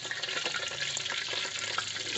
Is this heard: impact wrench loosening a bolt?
no